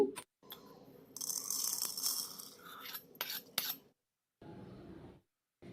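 Roasted spices and dried chili being ground into powder, heard as close, quiet bursts of raspy scraping and rubbing that come in short runs separated by brief silences.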